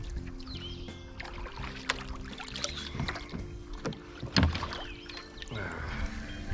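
A canoe is paddled on the Annapolis River in Nova Scotia, with soft splashes and knocks of paddles against the hull, faint water sounds and a few scattered clunks in a quiet outdoor setting.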